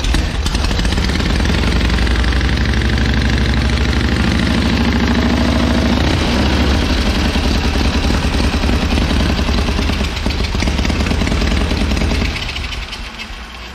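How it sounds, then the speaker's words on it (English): A vintage motorcycle engine idles loud and close with its exhaust valves open, a continuous rapid, hammering chug that holds steady throughout and fades slightly at the very end. "Open my exhaust valves here."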